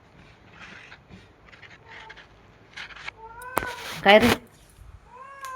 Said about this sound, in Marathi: मांजर आमच्या दिवाणमध्ये गेली